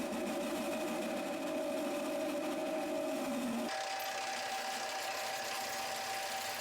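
A lathe cuts with a parting tool, a steady whining, chattering grind with a tonal ring that shifts abruptly midway, continuous and fairly faint, with motor hum underneath.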